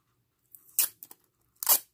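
Adhesive tape being pulled from the roll makes two loud, close ripping tears, with a brief crackle between them, against otherwise quiet surroundings.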